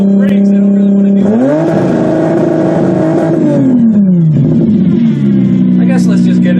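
A car engine revs hard toward redline, pitch climbing and holding as a steady loud drone, then dropping and settling back into a lower idle, close and continuous throughout.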